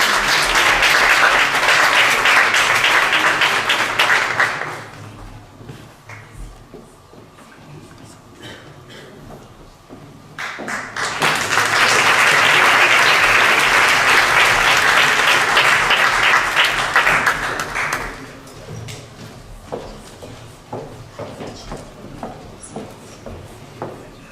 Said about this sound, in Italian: Un applauso per Cecilia Pecoraro.